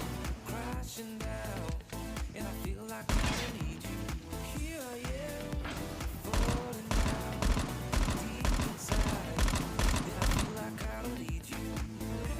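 An M16A4 rifle fires in burst mode in the mobile game Call of Duty Mobile: repeated sharp, rapid bursts of gunfire that carry on throughout, loud and close over a steady musical background.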